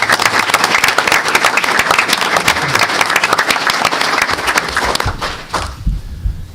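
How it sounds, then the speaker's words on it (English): A crowd in a school district gathering applauds the softball coaches with dense, loud clapping that holds steady before thinning and fading out near the end. "So a round of applause, please,"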